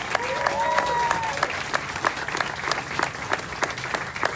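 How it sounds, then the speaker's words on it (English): Audience applause at a Michigan Democrats town hall, scattered distinct claps at moderate distance with a voice speaking briefly over the start. "A big round of applause."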